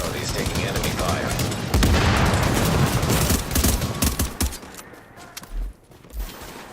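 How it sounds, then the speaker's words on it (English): Rapid bursts of gunfire from The Division's Last Stand mode, a dense fusillade of automatic weapons fire that fills most of the stretch and then thins into scattered shots and a few heavy thumps near the end. "Fortification at Charlie is taking enemy fire."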